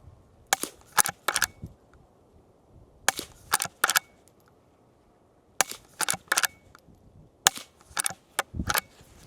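Four quick bursts of sharp gunshots through AAC Enterprise suppressors with short pauses between, one round hitting steel, muffled cracks over quiet outdoor background.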